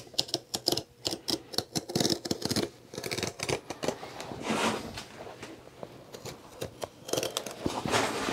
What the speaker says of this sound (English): I'm gonna cut the threads in between the sole layers.